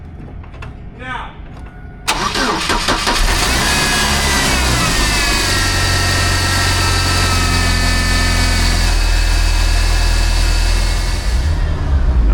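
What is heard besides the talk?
car engine starting and idling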